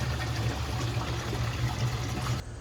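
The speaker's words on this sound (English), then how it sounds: "Let's get some water in there and see if it works." Water pouring steadily into a weed sprayer tank, a continuous close splashing trickle that stops abruptly near the end.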